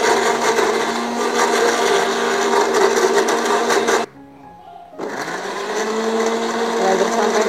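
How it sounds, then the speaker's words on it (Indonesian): A kitchen blender purees pineapple and papaya with a loud, steady whir, stopping briefly for about a second before starting up again and running on. "Blender sampai halus."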